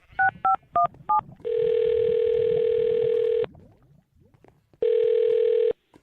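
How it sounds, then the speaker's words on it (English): A telephone dials a number with four quick paired beeps, then a steady ringback tone sounds twice, each long and loud with a pause between, alone without talk. "I'm going to dial his phone number right now"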